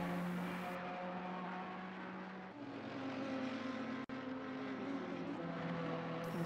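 Race cars on track during a TX3 race at Brands Hatch, a continuous droning engine roar that shifts pitch partway through, with a brief sharp break near the end.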